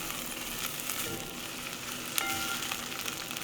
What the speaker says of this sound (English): So while those saute